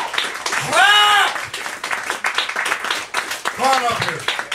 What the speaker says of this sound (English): A warm, warm welcome for Joan of Art. Joan of Art! Clap, you bastards!